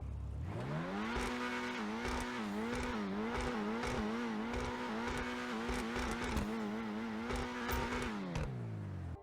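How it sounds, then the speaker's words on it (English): The Grotti Itali RSX supercar in GTA Online revs its engine loudly and steadily, holding a buzzy, rising and falling drone with rapid gear-like pulses for several seconds before winding down. "Let's see what the Grotti Itali RSX actually sounds like."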